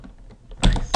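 A quick burst of keystrokes on a computer keyboard, a few faint taps followed by a louder flurry of clicks, heard up close in a quiet room.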